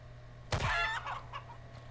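A chicken in the Wild West game Weird West gives a short burst of loud, close clucking squawks, then trails off into a couple of fainter clucks over low background hum.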